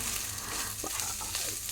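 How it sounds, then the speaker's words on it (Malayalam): Grated coconut roasting in a pan for a crab curry sizzles steadily and close, with light scraping and stirring of a spoon breaking through the constant frying hiss. "സോ നെക്സ്റ്റ് നമ്മൾ എന്ത് ചെയ്യുന്നു, തേങ്ങ വറുക്കുവാണ്"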